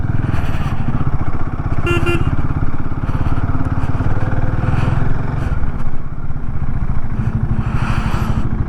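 Royal Enfield Himalayan 450 motorcycle idling and rumbling close by as it is parked at a highway hotel stop, a steady engine throb with brief clatter and scraping, and some faint background voices.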